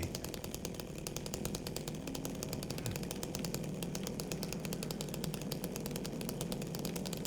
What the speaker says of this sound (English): when you're using the chainsaw in the remake